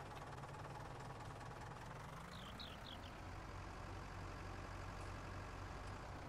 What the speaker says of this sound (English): Start the engine, get over there.